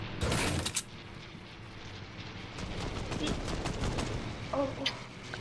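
Gunfire in Fortnite: a loud burst of shots at the start, then scattered shots and clatter under continuous talk between players.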